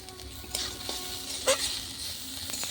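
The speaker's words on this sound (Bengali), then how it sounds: "দেখেন কত সুন্দর করে আমি ভেজে নিচ্ছি" Radish greens frying in a pan on a clay stove, a soft, steady sizzle with occasional stirring clicks and a brief louder scrape, close but quiet.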